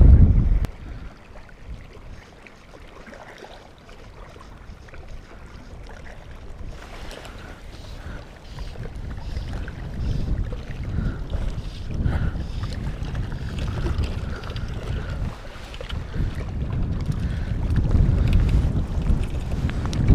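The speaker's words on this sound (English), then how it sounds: "Pretty windy day, man. Really hard to fish." Gusty wind rumbles against the microphone outdoors while fishing, swelling and easing over time, with faint splashing water underneath.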